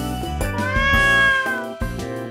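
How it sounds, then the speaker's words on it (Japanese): A cat meows in a Project Sekai story: a few clear, close, drawn-out cries follow one another in a short run, the middle one rising and falling in pitch, with no voices over them. "猫が近寄ってきたが"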